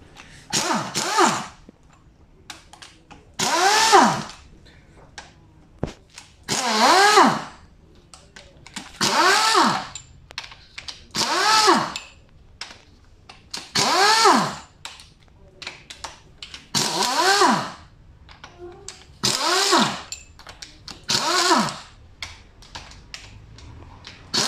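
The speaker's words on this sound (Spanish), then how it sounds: "ahora voy a soltarlo con la pistola" Pneumatic impact gun loosening cylinder head bolts on a Renault F8Q 1.9 diesel engine, about ten sharp whirring bursts in a steady rhythm separated by short pauses, loud and close.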